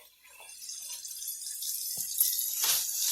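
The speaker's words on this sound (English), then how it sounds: "And you completely submerge this into the water." Crochet hair, roughly eight packs of it, plunged into a sink of water, giving a soft running, sloshing wash that swells toward the end with a brief louder splash near the close.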